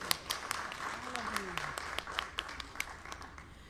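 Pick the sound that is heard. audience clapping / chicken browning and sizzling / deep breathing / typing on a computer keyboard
audience clapping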